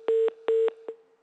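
Telephone line tones sound after a call drops: two long steady beeps and a shorter third, evenly spaced, clear and fairly loud with no voices.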